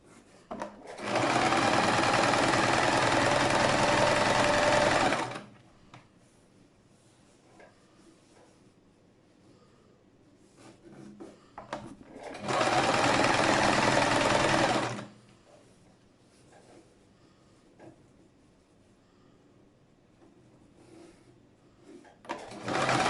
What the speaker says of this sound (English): Start sewing it like this. You sew it down.